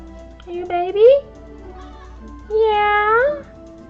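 A cat meows twice in the Final Fantasy XIV game, two rising, tonal calls close up over faint steady background hum.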